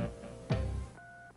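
A telephone is dialed in a Little Shop stage show, with a brief pair of steady touch-tone beeps after a thump. The beeps are faint and sit under a background of stage ambience.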